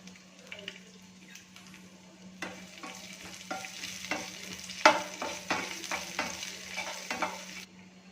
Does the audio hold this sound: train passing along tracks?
no